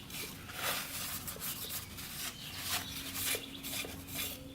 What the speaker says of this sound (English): Clean it off with some brake cleaner.